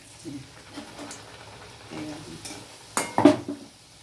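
Urad dal puris being turned one at a time with a metal spatula in very hot oil, with a soft frying hiss throughout and a burst of louder scraping and clattering near the end.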